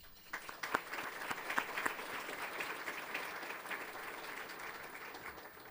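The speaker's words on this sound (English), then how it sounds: "Please give them a round of applause." A crowd claps steadily for several seconds, moderately loud and sustained, with no voices over it.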